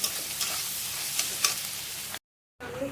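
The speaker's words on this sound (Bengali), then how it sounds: "একটু লাল করে ভেজে নিতে হবে।" Onions sprinkled with salt fry in a pan: an even, close crackling sizzle with occasional stir scrapes, cutting out briefly to silence before resuming.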